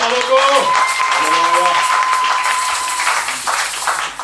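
A church congregation claps and acclaims loudly, raised voices and shouts riding over dense, steady applause that fills the room throughout.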